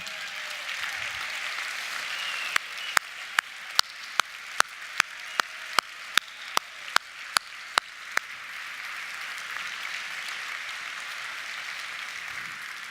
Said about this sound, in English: let's give you all a round of applause for your efforts from last year